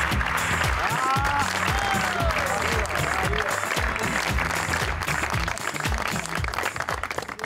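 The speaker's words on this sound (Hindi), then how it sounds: "आइए तालियों में इस्तकबाल करते हैं" A studio audience bursts into sustained, dense applause to welcome a singer onto a talk show, loud and steady throughout, with music and a few voices mixed underneath.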